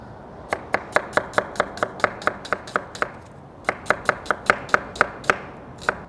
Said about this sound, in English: a white onion that we're just going to slice nice and thin